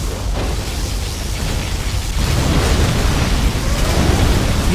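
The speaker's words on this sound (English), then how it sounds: "Particle cannon activated." A particle cannon blast in C&C Generals: Zero Hour, a broad roaring rumble of energy and explosion noise that swells louder partway through and holds steady to the end.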